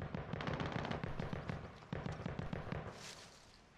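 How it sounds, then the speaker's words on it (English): Automatic gunfire in a Call of Duty Modern Warfare match, rapid bursts of rattling shots in quick rhythmic strings with short pauses, fairly distant and moderately loud, ending in a softer hissing tail. "Oh yeah, somebody's shooting at us inside, over here somewhere."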